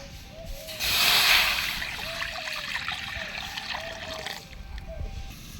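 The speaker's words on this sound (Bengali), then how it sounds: "পালং শাক সেদ্ধর জন্য জল দিয়ে দেবো।" Water pours into a cooking pot set up for boiling spinach, a soft steady splashing stream that swells early and then runs on quietly for several seconds.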